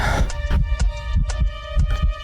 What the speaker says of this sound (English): you hear a heartbeat, but not a sound is made.